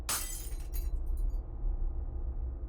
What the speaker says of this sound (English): toss the old bulb into a box, where it shatters amongst other pieces of glass